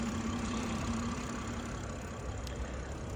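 BMW inline-six idling under an open hood, a quiet, steady low hum that holds even throughout with no revving.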